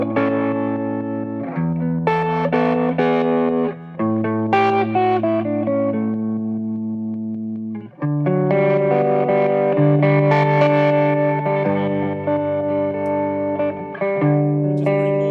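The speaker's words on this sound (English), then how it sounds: "On the reverb, it has a tremolo," A 1950s guitar amplifier with tremolo applied only to its reverb, playing loud, distorted electric guitar chords and lines with a pulsing, washy reverb tail, continuous for about fifteen seconds with brief breaks between phrases.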